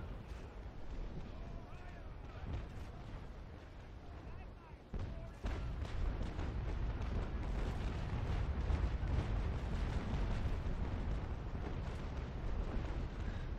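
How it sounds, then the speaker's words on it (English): Naval cannon fire aimed at ship sails in the video game Naval Action, with loud booming shots and a rolling roar of battle that grows heavier about halfway through, while players talk over it. "they are shooting sails."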